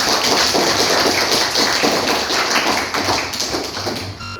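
Classroom audience applause, a dense, steady patter of many hands clapping that holds for several seconds before thinning and stopping at the end.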